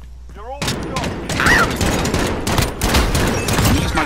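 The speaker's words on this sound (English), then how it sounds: "Oh, it's a fully automatic weapon?" A fully automatic weapon fires in a shooter video game: a loud, dense burst of rapid gunshots that keeps going for several seconds, crackling and booming without pause.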